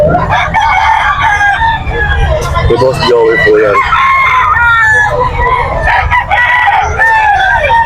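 Roosters crow repeatedly at a busy chicken market in Bocaue, Bulacan, loud and close, overlapping one another. Someone talks over them amid crowd bustle.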